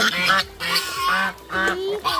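A duck quacks several times in a row, loud, near and nasal, with short gaps between each call.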